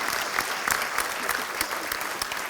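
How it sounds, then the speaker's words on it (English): An audience gives a loud, full round of continuous applause after a conference talk, dense clapping from many hands filling the room without pause. "Big round of applause there."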